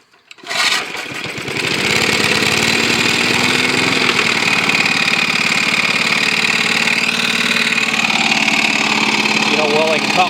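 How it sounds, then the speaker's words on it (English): A small lawnmower engine that was repaired with JB Weld starts with a quick pull, then runs loud and steady at full throttle, with a rough, buzzing drone close by the whole time. "I'm going to try it here with the JB Weld lawnmower"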